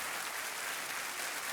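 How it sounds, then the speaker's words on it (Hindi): Loud, steady studio audience applause fills a Hindi-language quiz show set, a dense continuous wash of many hands clapping together without a break. "हम आपका हौसला बढ़ाने के लिए एक बार फिर जोरदार तालियां बजाते हैं नीलम के लिए"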